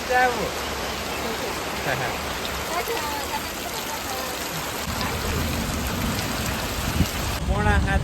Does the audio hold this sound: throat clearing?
no